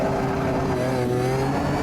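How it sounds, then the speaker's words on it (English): A race car in a racing simulator video game holds a steady, loud engine drone while its tyres squeal under cornering load, continuous with no talk. "listen to the tyre squeal."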